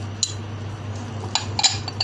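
A metal spoon clinks against a bowl while a large spoonful of soy sauce goes in for peanut butter instant noodles: a few sharp, close taps over a steady low hum.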